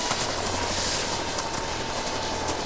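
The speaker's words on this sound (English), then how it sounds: "This is Obsidian Stone's chopper." Cartoon helicopter, the chopper of a villain in an animated kids' adventure series, heard as a steady close whirring rotor drone with engine roar that fills the whole moment, alone with no talk.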